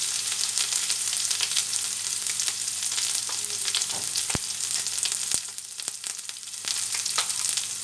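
Ground bottle gourd leaf paste fries in hot mustard oil in a pan, giving a continuous close sizzle with a couple of sharp utensil clicks midway.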